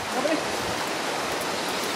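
Heavy rain pours down in a dense, steady hiss with no letup, close and loud throughout.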